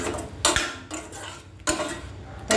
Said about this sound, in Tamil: இந்த தேங்காய் பால் ஊற்றி லேசாக கிண்டணும்.